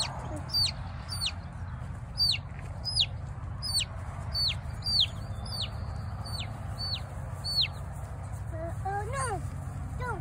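A baby chick peeps in quick, high, repeated calls through most of the clip, over a steady low background rumble, with a few faster chirps near the end.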